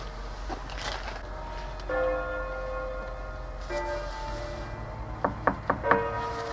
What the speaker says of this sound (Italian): Lele ha bussato nella chiesa, vediamo un po' se succede qualcosa